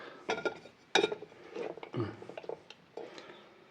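Clattering and clinking of crockery, a plate knocked and shifted several times in quick irregular bursts, close by.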